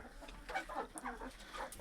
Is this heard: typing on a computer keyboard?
no